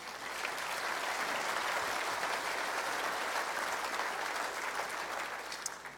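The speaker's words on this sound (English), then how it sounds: "please give him a round of applause as well" An audience at a provincial State of the Province address applauds the MC, a steady, even roar of many hands clapping at moderate volume, sustained for the whole stretch with no voices.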